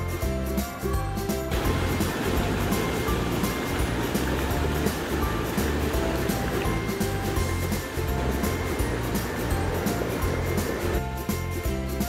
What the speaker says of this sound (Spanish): estamos en las piletas naturales del río